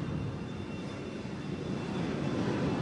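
Jet aircraft noise from a Canberra bomber with Avon engines, a steady broad rumbling roar that holds at a constant moderate level without a clear approach or fade.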